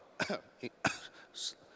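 Two or three sharp, harsh coughs close by, separated by brief pauses, ending with a hissy exhale; no speech.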